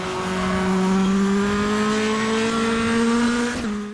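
Race cars in the 2017 sim racing game Project Cars 2 scream at high revs, a loud sustained engine note holding pitch with a brief gear-shift dip near the end, close and alone.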